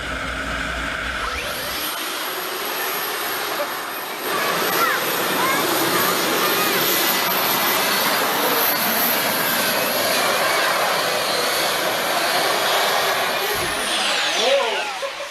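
Garrett turbine engine of roughly 200 horsepower powering a pulling tractor down the track, a loud steady jet-like whine and roar that holds for most of the run with a rising sweep near the end, with voices talking over it.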